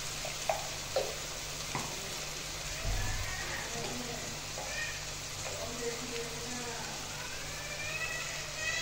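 Turmeric paste, salt and spices sautéing in a pan for a potato and egg curry, a steady soft sizzle with occasional light stirring clinks, fairly quiet and even.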